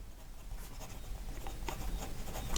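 A Jinhao X450 fountain pen with a medium nib writes on paper, giving faint, close scratchy strokes with small bursts of scribbling and soft rubbing, alone without talk.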